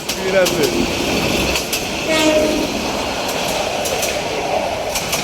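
A train rumbling past close by, with rhythmic clickety-clack of wheels and a horn sounding, loud and continuous throughout.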